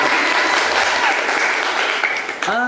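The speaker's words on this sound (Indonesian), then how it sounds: "Tepuk tangan bagi kita semuanya." Lecture audience claps hands together in a loud, dense burst, fading slightly near the end as a voice briefly comes in over it.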